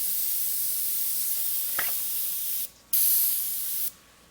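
An airbrush sprays paint lightly through a freehand shield while creating a flame lick. A soft continuous hiss plays close by and is broken by two louder, sharper bursts of spray near the end.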